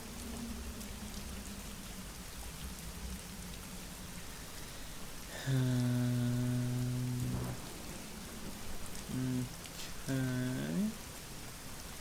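Heavy rain in the video game Secret Files Tunguska pours steadily as a dense hiss. Loud tonal game chimes cut in partway through, and a brief spoken word is heard.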